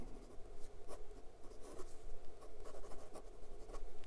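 1947 Parker 51 Demi fountain pen with a wet nib writing in Waterman's Serenity Blue ink on paper, soft close-up scratching strokes in an irregular rhythm, faint and quiet.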